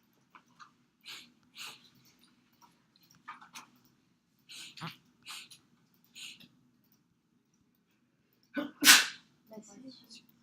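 A single quiet human sneeze indoors, sharp and brief near the end, following scattered soft breaths and small mouth noises in an otherwise silent room.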